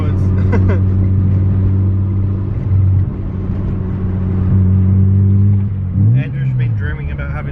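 A Mazda FD RX7 engine idles with a steady low hum, close and loud, then swells in a short rev rise near the end.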